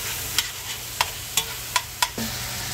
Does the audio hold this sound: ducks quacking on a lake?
no